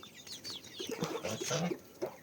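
Chicks clucking and peeping in a backyard coop, a busy run of short soft calls close by, with no talking.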